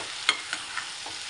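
A spoon stirs a dish in a frying pan, giving three or four soft scraping strokes over a steady low sizzle, close and fairly quiet, with no one speaking.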